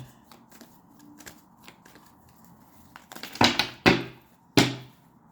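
Oracle cards are handled during a reading, with soft rustling and a few quiet taps, then several sharp, close riffle shuffles in quick bursts near the end, with no talk.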